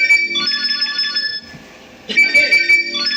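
A mobile phone rings with an incoming call, a loud melodic ringtone repeating in short bursts with a brief pause midway. No one speaks over it.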